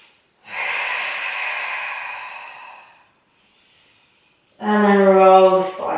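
A person lying in a yoga bridge pose breathes in and out audibly: one long, airy, close exhale, a pause of near silence, then a sharper, rougher, snort-like breath.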